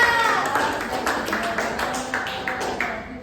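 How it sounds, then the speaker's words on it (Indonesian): Classroom applause from students for a presenting group during a math microteaching lesson, a steady patter of many hands clapping at moderate distance for several seconds, with some voices mixed in. "Tepuk tangan untuk kelompok 2."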